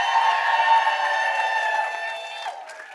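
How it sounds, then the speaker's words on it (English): Live show audience clapping and cheering steadily at a podcast recording, a dense wash of applause that holds for a couple of seconds and then thins out. "Crowd noise"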